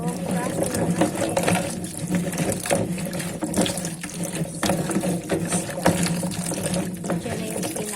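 Tap water runs steadily over kamias fruit being washed for a pinangat of bisugo fish, a continuous close splashing hiss with voices and background sounds mixed in.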